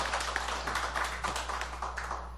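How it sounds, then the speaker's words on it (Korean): A room full of people claps together in dense, continuous applause for a couple of seconds, steady and moderately loud. "큰 박수 부드럽게 한번 저 박수 한번 주시죠"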